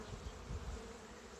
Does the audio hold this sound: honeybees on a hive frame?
yes